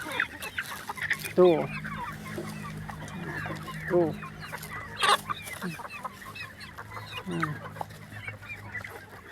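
Kampung chickens cluck repeatedly up close while scattering and scratching through their feed, with a low steady hum underneath and brief sharper calls breaking through.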